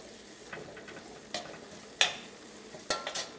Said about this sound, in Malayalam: ഇത് നമുക്കൊരു മീഡിയം ഫ്ലെയിമിലിട്ടിട്ട് ഒരു 2-3 മിനിറ്റ് ഒന്ന് ഇളക്കി കൊടുക്കാം